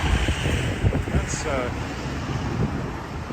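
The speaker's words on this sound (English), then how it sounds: "I didn't expect the wind to be that bad." Strong wind buffets the microphone on a downtown Regina street in March, a loud continuous low rumble with faint traffic in the background.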